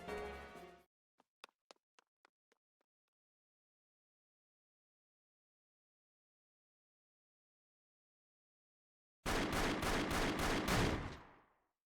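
Gunfire in the Labyrinth of Galleria video game, opening with a brief noisy burst, then a few sharp shots fading away, a long silence, and finally a loud rapid volley of about half a dozen shots.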